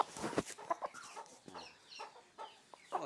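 A large fighting rooster clucks and grumbles in short, irregular bursts, fairly close, with a few sharper squawks between quieter throaty notes.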